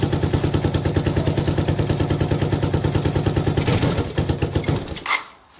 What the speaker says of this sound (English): you just give it throttle and it tends to die